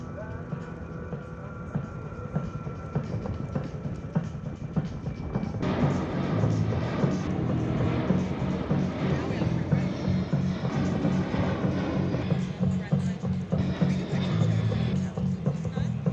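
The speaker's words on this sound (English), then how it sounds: "C-17 can maneuver too very well at these slower speeds." A C-17 military transport aircraft flying slowly at an airshow makes a loud, steady jet engine roar that swells partway through, with a commentator talking over it on a public address system.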